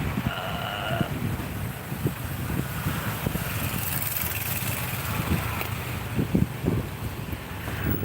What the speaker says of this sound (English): the wind so strong, so that's why my voice is not so clear on this video